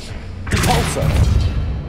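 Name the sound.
Depulso spell effect in Hogwarts Legacy video game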